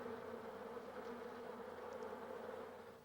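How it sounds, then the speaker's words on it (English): Honeybees buzz in a steady, low-pitched drone that stays even throughout, fairly faint and close, with no voices over it. "The honeybee has been called the most important insect in the world."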